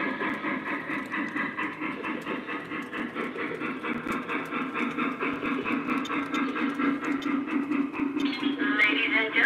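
An O scale model train runs steadily with a continuous rhythmic rumble and clicking of wheels on track, close and moderately loud, slightly building toward the end.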